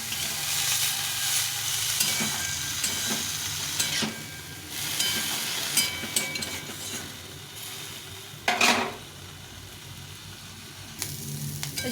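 Bottle gourd peel frying in a pan with turmeric after the water has cooked off, giving a steady close sizzle broken by scraping stirs and one louder clatter near the end.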